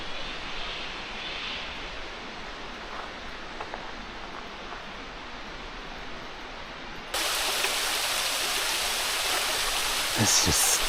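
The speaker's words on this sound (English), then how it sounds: "It's amazing watching that water just come down off over that cliff and come all the way down." Water pours over a cliff at Vera's Grotto as a steady, close rushing roar that jumps suddenly louder and brighter partway through, with no talking.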